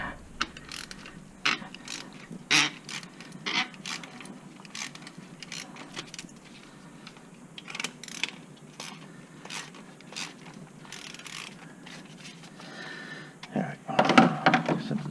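A ratchet clicks in short bursts while snugging a spark plug on a Hyundai Accent engine, close metallic pawl ticks and tool clatter in an otherwise quiet space, with a voice speaking at times.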